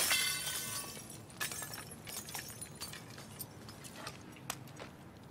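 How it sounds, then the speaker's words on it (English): Window glass smashed in The Last of Us Part II: a loud crash and shatter at the start, then scattered tinkling shards falling and clinking over the following seconds, with no talk. "Let me smash in the window."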